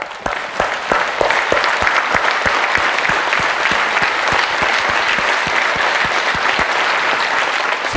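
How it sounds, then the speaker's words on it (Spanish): Audience members in a healing-hands workshop clap together for about eight seconds, starting with a few distinct claps that quickly swell into a steady, loud, dense applause with no voices. "Ahora vamos a hacer un aplauso."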